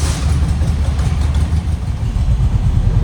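An abandoned classic Porsche engine running after being started, a loud, close, rough low chugging idle with a steady uneven pulse and no voices.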